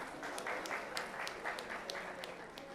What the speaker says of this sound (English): please put together a round of applause for NAREDCO and CREDAI